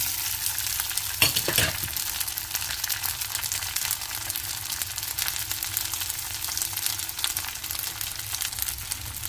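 Boiled button kozhukattai stir-fried in a pan with dried chillies, chana dal and urad dal make a steady close sizzle, with a short clatter of stirring near the start and no talking.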